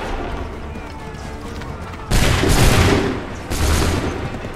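Massed musket volleys crack out during an Assassin's Creed 3 battle, two loud, broad bursts of gunfire about a second and a half apart, each decaying into a rumbling echo over low background din.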